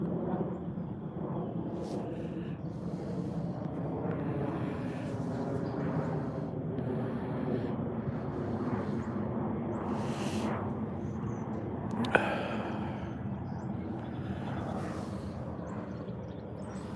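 A low, continuous rumble of an airplane passing overhead above a cloudy sky, droning steadily and fairly faint throughout, with no talk over it.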